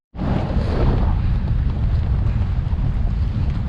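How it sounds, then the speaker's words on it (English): Strong wind roars across an exposed winter hillside on Pen y Fan, a steady loud rush with deep low buffeting against the microphone that continues without a break. "the wind's picked up a bit"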